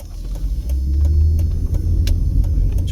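A car driving through East Las Vegas as it turns left onto Judson Street, with a loud, steady low engine and road rumble close by and faint ticking clicks over it.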